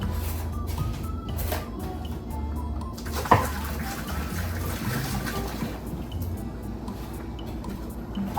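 Water from a pot of boiled eggs drains away, a steady trickling pour with a brief clank partway through, loud and close in a kitchen.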